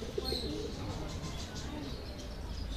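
Soft pigeon coos at a Paris bird market drift over a low, steady background hum, faint and somewhat distant.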